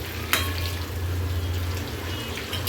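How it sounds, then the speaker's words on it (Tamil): Soybean chunks deep-fry in hot oil until golden, giving a steady close sizzle with a low rumbling bed and a brief sharp clatter near the start, with no talking. "அப்படி திருப்பி திருப்பி அது நல்லா பொன்னிறமாக ஆகுது வரைக்கும் பொரித்து எடுத்துக்கிற வேண்டியதான்"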